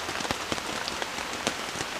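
Heavy rain pours steadily at a campsite during a wet, cold night, a dense close hiss broken by scattered louder drips and taps, with no talking.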